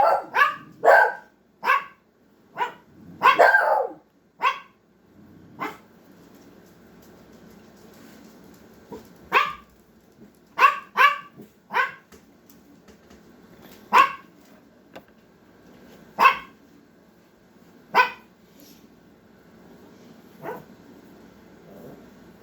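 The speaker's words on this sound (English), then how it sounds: "Chihuahuas, they got hearty growls on them." Chihuahuas and other dogs bark both indoors and outside, sharp yips and barks arriving in scattered clusters, some bursts close and loud, others fainter, with quiet gaps between.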